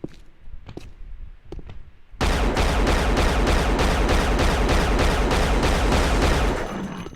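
Sustained rapid automatic gunfire in the shooter game Unreal erupts after a quieter stretch with a few faint sounds, loud, close and continuous for about five seconds before easing.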